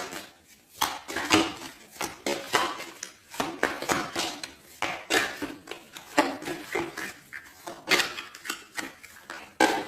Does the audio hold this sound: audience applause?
no